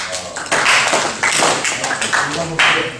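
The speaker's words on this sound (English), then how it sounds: "Give her a round of applause." A small group claps for someone at a spiritual talk, in short bursts of fairly close, uneven clapping with a few brief pauses.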